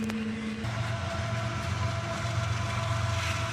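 A freight train rolls past before sunrise, a steady low rumble of wagons with a sustained engine drone, a pitch shift early on as a horn or locomotive tone changes, continuous and fairly close.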